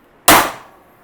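A single sharp metallic strike of a hammer on a transfer punch set against metal, a bright loud clang with a short ringing decay.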